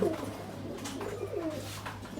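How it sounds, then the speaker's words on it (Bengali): Soft, low coos from a female Rampuri pigeon repeat close by, a dove-like throaty murmur rising and falling over a steady low hum. "এই যে হচ্ছে কবুতরটা মায়া কবুতর"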